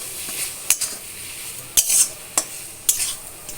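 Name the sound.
stirring soybean mixture with chili powder in pan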